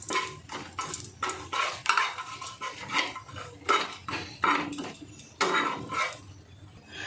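Whole garam masala tempering in hot oil for an oats pulao, heard as a series of clinking, scraping utensil strokes against a pot over a light sizzle, close by, no speech.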